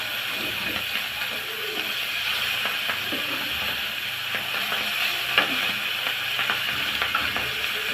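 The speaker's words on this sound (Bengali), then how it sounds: "ভালো করে মাছটা আমি ভেজে নিব লাল লাল করে।" Pabda fish frying in hot soybean oil in a pan, a steady dense sizzle and hiss throughout with faint scraping and crackles, close and loud with no talking.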